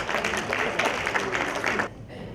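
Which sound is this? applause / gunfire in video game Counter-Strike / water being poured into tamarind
applause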